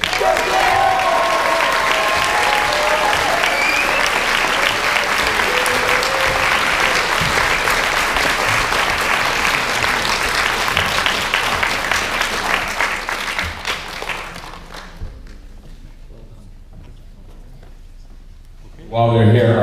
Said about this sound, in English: please give a big, big round of applause for Griff Wood